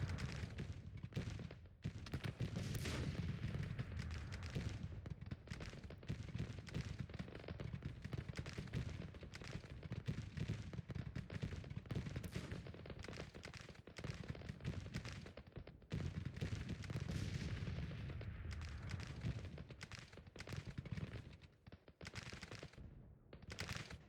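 Cannon artillery fire in Grand Tactician: The Civil War, a dense, continuous barrage of booming and crackling shots rolling on for the whole stretch, loud and close with no pauses.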